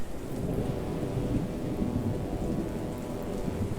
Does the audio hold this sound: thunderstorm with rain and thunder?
yes